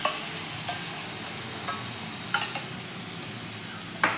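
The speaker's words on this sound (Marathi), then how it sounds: "मलाई आपली सर्व पिठाला छान अशा आपण मिक्स करून घेऊया" Cream being stirred into besan flour as it roasts in a pan for barfi, a steady soft sizzle with a few scraping strokes of the spoon at irregular intervals.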